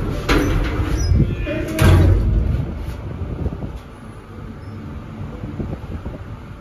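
Lift doors slide with a low rumbling whoosh that swells and peaks near the two-second mark, then settle into a steady mechanical hum and hiss.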